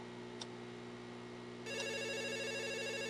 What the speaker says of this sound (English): It always is the phone,